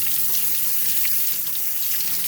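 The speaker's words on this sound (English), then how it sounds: "we're just gonna pop the plug, and while that drains" Water drains from a sink after the plug is pulled, a steady close hissing gurgle with no talk over it.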